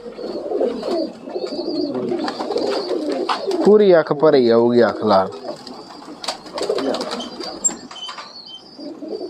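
Red-eyed pigeons in a breeder setup coo in a short burst of throaty, wavering calls close by, while someone talks over and around them.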